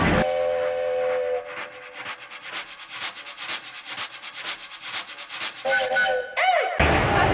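A passenger train on the Kandy to Ella line clatters along the rails in steady rhythmic clicks and rumbles, ending with a high whistle-like squeal and a loud burst of noise.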